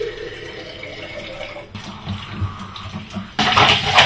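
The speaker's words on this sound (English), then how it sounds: "if I swish it around it ought to reach all the bits of the film" Stop bath liquid sloshes and swishes inside a film developing tank during Super 8 processing, a close watery churning that breaks off briefly and returns louder at the end, with no talking.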